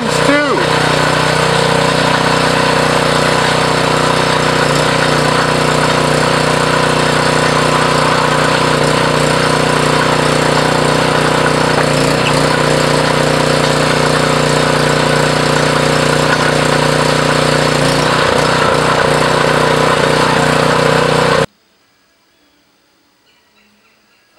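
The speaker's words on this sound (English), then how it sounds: "Oh yeah, and the engine runs too." The small engine on a two-stage wedge wood splitter runs steadily at a loud, even idle for about twenty seconds, a close continuous droning hum with a person talking over it, before it cuts to silence.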